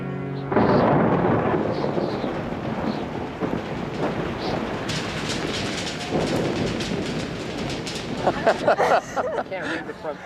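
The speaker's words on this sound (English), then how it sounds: "it's raining" Rain falls steadily with deep rolling thunder, a dense, continuous wash of sound that swells into sharper crackling bursts toward the end, with voices in the background.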